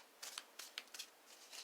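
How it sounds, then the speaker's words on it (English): A tarot card deck is shuffled by hand in several quick, crisp riffling bursts, close and quiet against a silent background. "Walk around with this deck in your hand and shuffle it."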